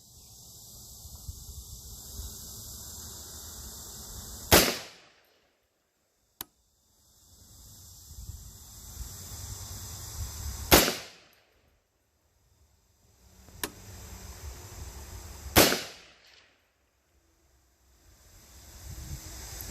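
Three sharp gunshots fired with a James Madison Tactical trigger, spaced several seconds apart, each a loud crack with a short decaying tail, separated by quiet pauses with faint handling noise.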